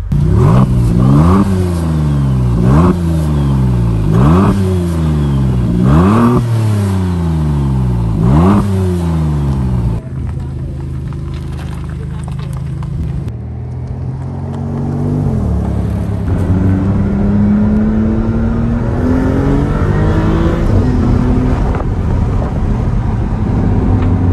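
A Maserati MC20 with its V6 Nettuno engine accelerates on a road between Nice and Saint-Tropez, loud and close, revving up through repeated rising gear pulls, then settling into a steadier drone with slower climbs.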